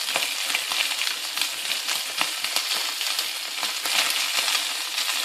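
Food frying in a pan, a steady, loud, crackling sizzle that continues without a break, close by, with no voices.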